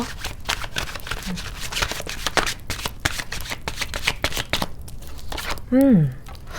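Tarot cards being shuffled by hand, a dense run of crisp riffling and slapping close to the mic throughout, ending with a brief tonal swoop near the end.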